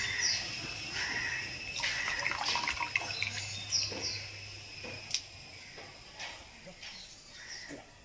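Palm flour is stirred into water in a pot, giving a close, continuous sloshing and swirling with splashes and occasional knocks against the vessel.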